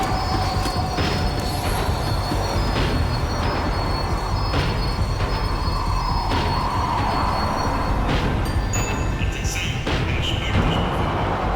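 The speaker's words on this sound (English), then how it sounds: "The tram was slowing down, and I'd only just gotten on board." Tram in the video game Max Payne 3 rumbles as it slows down, with a dense rolling roar, clanks and faint wheel squeals, steady and close throughout.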